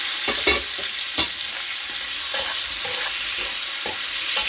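Garlic fries in a hot pan with a steady, even sizzle that runs throughout, joined by a few light clicks of stirring, close and fairly quiet with no talking.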